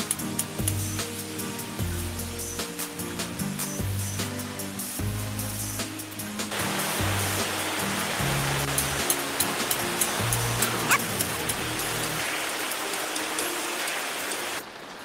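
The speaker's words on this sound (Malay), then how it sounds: "Ini cuaca hujan, jadinya bising sikit lah bunyinya." Steady rain falls outside a building in Malaysia, a continuous hiss of drops on surfaces heard from indoors, with a low rhythmic tone underneath and a brief gap near the end.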